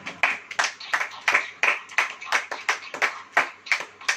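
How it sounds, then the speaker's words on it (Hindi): Rhythmic hand clapping in a steady beat, about three claps per second, like a church congregation clapping along in time during a sermon. "ताली बजाइए।"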